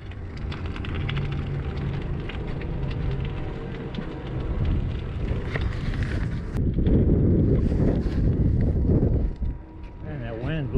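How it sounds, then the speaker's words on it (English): Strong wind buffets the microphone while cycling through slush, a loud, continuous roaring rumble with bursts of gusting noise and someone talking over it. "Man, that wind's blowing like a mug."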